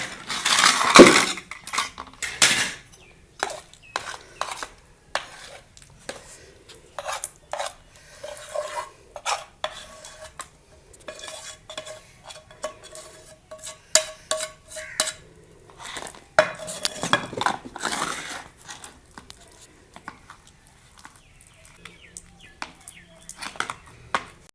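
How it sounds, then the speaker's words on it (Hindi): A spoon clinks and scrapes against a metal pan, stirring roasted chickpeas into a sticky peanut chikki mixture at home, with irregular close metallic taps and knocks spread over a long quiet stretch. "वो आपने ऐसे ना आस्ता आस्ता चम्मच हिलाते रहना है।"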